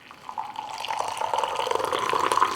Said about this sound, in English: now we're just gonna pour it into the mug